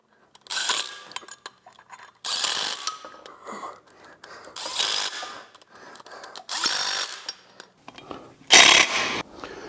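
Ratchet wrench clicking in several quick bursts while engine mount bolts are snugged up during a Gen 5 LT1 engine install into a C3 Corvette, close and crisp with short pauses between runs.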